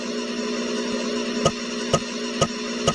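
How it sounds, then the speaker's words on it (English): An Atari ST floppy disk drive copies sectors with Fast Copy 3, giving a steady mechanical whir broken by crisp clicking head steps about every half second, close and alone. "That's the sound of a floppy disk copying sectors."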